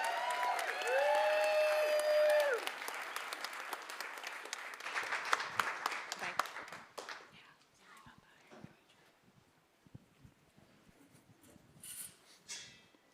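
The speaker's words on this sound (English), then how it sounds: "Please give him a big round of applause." An audience at a Sundance event gives a round of applause for a bison meat farmer, loud at first, then thinning into scattered claps and murmurs, with a faint burst near the end.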